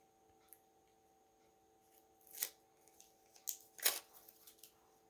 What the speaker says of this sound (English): And all this paper, you know, that you're peeling off